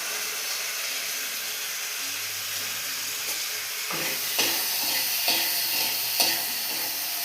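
Tomatoes fry with mustard seeds and green chilli in a steady, close sizzle. Several scraping stirs of a spoon against the pan break through it near the end, with no talk.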